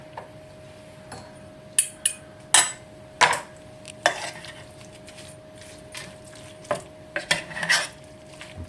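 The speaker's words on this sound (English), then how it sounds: "That just needs to be stirred through into the tomatoes, mashed up and stirred into the tomatoes." A spoon works mashed roast tomatoes through a pasta sauce in a pan, making irregular scraping clinks and soft wet stirring sounds up close, with no talking.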